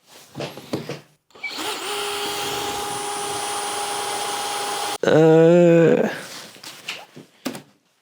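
A hand drill with a Forstner bit whines steadily for several seconds, then strains louder with a wavering pitch as it bores, with brief talk before and after.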